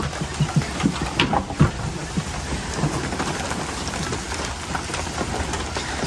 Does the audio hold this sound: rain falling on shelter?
yes